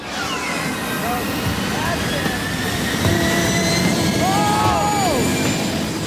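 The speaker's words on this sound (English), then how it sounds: "From zero to hero, the jet soon reaches full throttle." A jet engine spools up to full throttle in an open field, blasting a car toward 250 miles an hour of wind, a loud steady roar with rising whine, while people talk over it.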